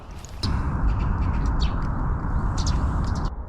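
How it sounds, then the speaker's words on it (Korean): Small birds chirping in scattered bursts outdoors at a cold morning campsite, fairly close, over a steady low rumble of wind or background noise. "새소리도 많이 들리고"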